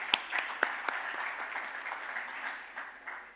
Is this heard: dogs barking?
no